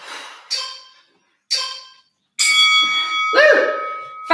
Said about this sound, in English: Go to the final bell.